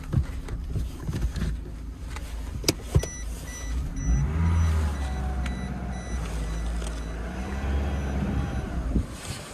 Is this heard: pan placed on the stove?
no